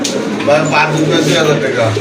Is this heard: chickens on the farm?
no